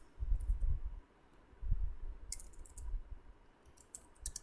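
Keys tapped on a computer keyboard in a few brief scattered bursts of clicks, fairly faint over a low rumbling background with no talk.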